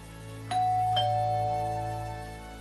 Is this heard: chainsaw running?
no